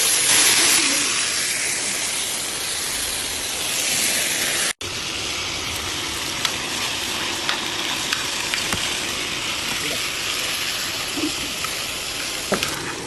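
Beef steak and sausage sizzle steadily on a disc griddle over an outdoor fire, a dense, continuous frying hiss with occasional pops and crackles, loud and close, with no talking.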